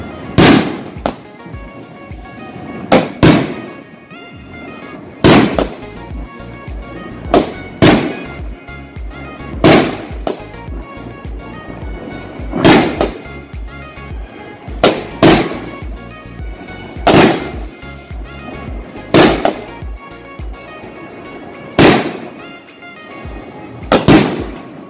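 Fireworks at a wedding celebration burst in a long series of loud, sharp bangs, arriving every second or two, some in quick doubles, with crackling tails and no voices.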